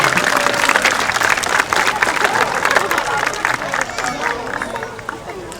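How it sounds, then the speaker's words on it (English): Loud crowd applause with scattered cheers and chatter at a sea lion show at Blackpool Zoo, sustained and then slowly fading toward the end. "Let's give her a big round of applause, everyone."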